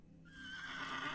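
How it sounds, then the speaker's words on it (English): A horse whinnies in a horror adventure game, a short rising neigh that swells from quiet to a sustained cry, fairly faint and alone. "Oh, a horse!"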